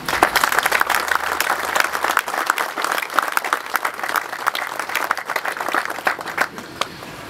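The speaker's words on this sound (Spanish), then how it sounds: "Para todos ellos pido un caluroso aplauso." An audience applauds the founding directors at the opening of a company's new headquarters, dense sustained clapping from a crowd that carries on throughout and tapers slightly at the end.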